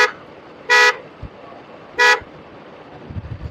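A car horn honks twice in short bright blasts about a second apart, loud and close, with road and engine noise faintly underneath.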